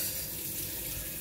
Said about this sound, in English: Yes, wash your hands.